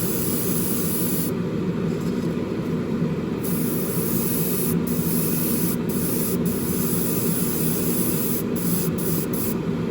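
An aerosol spray can lays a very light coat of paint onto the engine block of an AMT 1967 Impala Street Machine model kit, a steady close hiss running without pause for the whole stretch.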